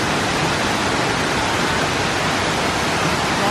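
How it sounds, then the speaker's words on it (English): A waterfall in Costa Rica rushing with a dense, unbroken roar, loud and constant throughout with no voices over it. "There's another waterfall hiding in there."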